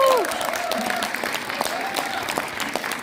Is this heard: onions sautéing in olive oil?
no